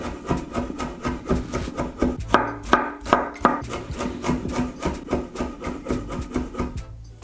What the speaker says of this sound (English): Also roughly chop some of the fresh garlic.